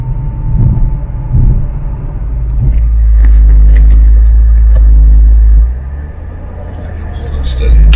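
A 700hp Ford Mustang Shelby GT500 V8 rumbles close by, its deep engine drone swelling louder in the middle and easing back, with people talking over it.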